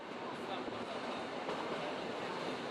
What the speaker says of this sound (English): Along the rails and past a little village.